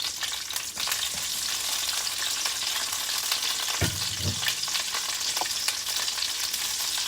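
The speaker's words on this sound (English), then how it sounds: "go ahead and get started with putting our asparagus in the pot" Asparagus sizzles in olive oil in a pot, a dense, even frying hiss that carries on throughout, with a couple of low bumps from the pan partway through.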